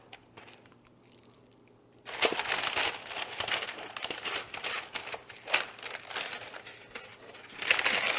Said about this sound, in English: just fold everything up in the tin foil, kind of like you're wrapping a present